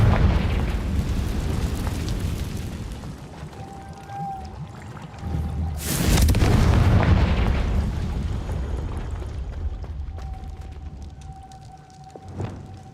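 A Confringo spell explosion in Hogwarts Legacy: a sudden loud burst in the middle cuts through a low rumbling game soundscape and fades into a long roaring decay, with no talk.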